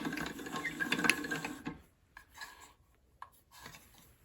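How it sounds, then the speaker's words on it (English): A pasta machine rolls dough into fettuccine, a close mechanical whirring and rubbing for under two seconds, then quiet with a few soft clicks and knocks. "So we start running it through the machine. As you can see, when it comes out as fettuccine."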